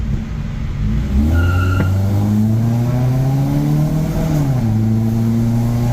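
A Toyota Soluna engine drones steadily, then rises and falls in pitch as it revs and eases off, with a loud, rumbling aftermarket exhaust close by.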